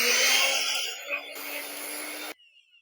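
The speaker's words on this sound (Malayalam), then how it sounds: "അടിപൊളിയായിട്ട് നമ്മളെ മിക്സി വർക്ക് ചെയ്യുന്നുണ്ട്" A repaired mixer grinder with a newly replaced switch whirs loudly at high speed for about two seconds, its pitch shifting slightly, then cuts off abruptly.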